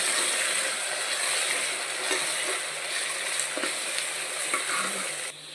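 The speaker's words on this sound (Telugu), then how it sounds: "ఇప్పుడు అల్లం వెల్లుల్లి పేస్ట్ కొంచెం వేగిన తర్వాత మనం పచ్చిమిర్చి అనేది వేసుకోవాలి" Green chillies frying in ginger garlic paste in a pan for a vegetable cooker biryani, a loud continuous close sizzle with scraping stirs and occasional sharper crackles.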